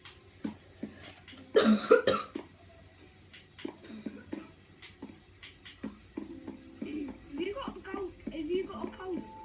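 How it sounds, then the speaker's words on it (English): A person coughs in a loud, harsh burst near the start, followed by quieter throat noises and talking, with clicks and faint game sounds in the background. "No, that was me coughing."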